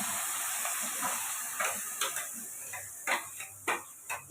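Masala paste frying in melted butter for paneer butter masala, a soft steady sizzle broken by several sharp spatula scrapes and taps that grow more frequent toward the end.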